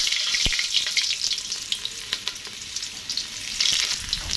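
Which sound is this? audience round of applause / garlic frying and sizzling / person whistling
garlic frying and sizzling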